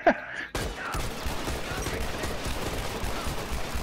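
Video game gunfire from a semi-automatic weapon, a dense, loud, continuous barrage of shots, with a brief vocal burst at the start.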